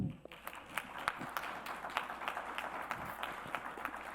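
Quiet applause from an audience at an academic conference on ecology and ethics: scattered, distinct hand claps over a soft crowd patter, continuing evenly at a distance.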